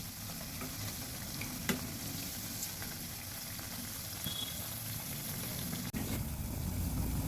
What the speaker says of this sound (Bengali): পকোড়াগুলো ভেজে নিচ্ছি এই বাঁধাকপির পকোড়া একটু সময় দিয়ে ভাজতে হবে